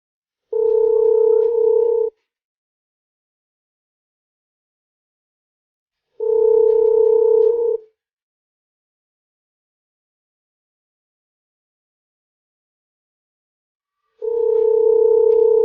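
A telephone ringback tone sounds in three long, loud, steady bursts, each about one and a half seconds, separated by several seconds of silence.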